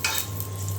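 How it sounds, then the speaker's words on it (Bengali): Dried red chillies fry in hot mustard oil with a steady, close sizzle and crackle running the whole moment, no voices over it. "আর তেলে দিয়ে দিয়েছি শুকনা মরিচ। এখন শুকনা মরিচটা একটু ভেজে নিয়ে"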